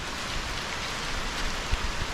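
Steady rain falls outdoors by a river, a dense, even hiss of drops on surfaces that holds at one level throughout, close and fairly loud, with no voices.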